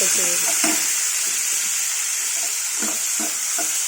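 Tomatoes and vegetables fry in a pan for an eggplant and pigeon pea curry, producing a loud, steady hiss of sizzling oil throughout. Occasional faint voice sounds sit low beneath the sizzle.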